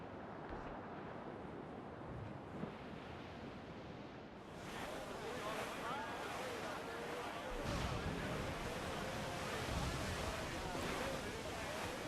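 Stormy sea waves and gusting wind in a squall aboard a sailing ship in Assassin's Creed, a steady roaring wash that swells louder partway through, with a voice faintly under the noise.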